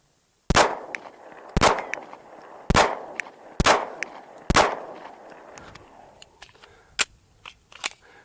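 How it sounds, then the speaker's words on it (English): A pistol with a red dot sight fires six rounds of Blazer Brass 115 grain ammunition at a 10-yard range, giving loud sharp reports at uneven intervals of about a second, then fainter distant shots. "So 6 rounds, 10 yards, Blazer brass 115 grain."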